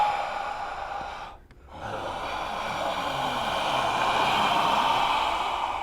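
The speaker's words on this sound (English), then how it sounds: "record all these inhalings and exhalings and turn that into a musical statement" Human breath recorded in a Foley room, slow inhales and exhales heard up close and alone, with a brief quiet gap in the middle before a long, airy, swelling breath.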